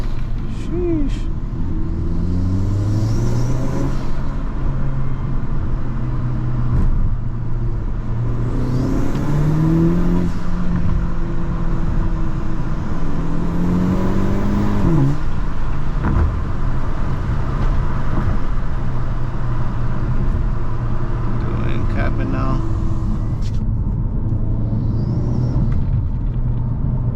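A 2023 Hyundai Elantra N engine with an open air intake revs up repeatedly through several gear pulls, with rising turbo whine and intake roar, then settles into a steady drone.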